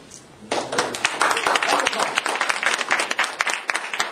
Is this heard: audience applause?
yes